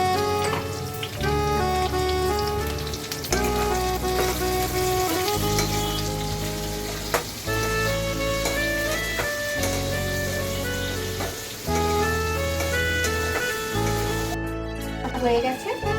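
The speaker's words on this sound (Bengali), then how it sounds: "একই তেলে আলু, ক্যাপসিকাম, টমেটো দিলাম, কাঁচা লঙ্কা দিয়ে একটু ভাজবো।" Potatoes, capsicum, tomatoes and green chillies fry in oil left from frying paneer, a constant crackling sizzle running beneath loud background music.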